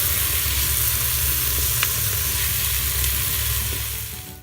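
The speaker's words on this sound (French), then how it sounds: "j'ai fait dorer donc oignons, viande et épices juste avant la mise en place de la cuisson sous pression" Onions, meat and spices browning in a Cookeo multicooker, a steady close sizzle and crackle of frying throughout with faint stirring, fading slightly at the end; no talking.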